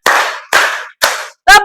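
A group claps hands in unison on a teacher's count in a classroom, four sharp loud claps spaced about half a second apart, the last one doubled, with no talk.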